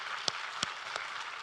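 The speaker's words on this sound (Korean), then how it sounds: "우리 하나님께 감사와 영광의 박수를 드리겠습니다." A church congregation at a Korean worship service applauds, a soft, continuous patter of many hands with a few sharper claps standing out, heard from some distance.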